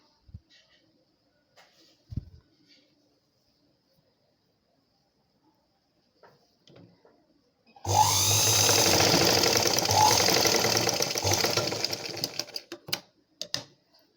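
Sewing machine back-stitching the end of a blouse seam, a sudden burst of rapid, steady mechanical stitching running for several seconds after quiet handling noises, then a few brief clicks.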